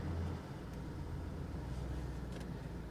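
A 2015 BMW 750i engine, damaged in an accident and with a weak battery, idles and is revved under the open hood, a steady low rumble that holds close and even throughout.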